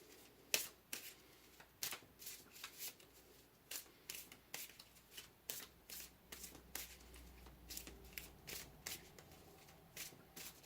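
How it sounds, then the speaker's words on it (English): Tarot cards are shuffled by hand, with quick riffling bursts and soft slaps repeating at an uneven pace, close and fairly quiet, with cards drawn from the deck. "Let's pull another card here"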